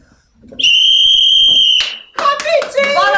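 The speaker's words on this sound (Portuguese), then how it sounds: "daqui a pouco a gente vai ouvir o som de um apito" A single loud, sustained referee-style whistle blast lasts over a second during a children's physical education class game, followed by a teacher's voice calling out.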